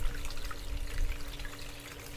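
Water rushing steadily through a gold sluice box with riffles and carpet while sulfide material is being concentrated, a constant close wash and trickle with no talk.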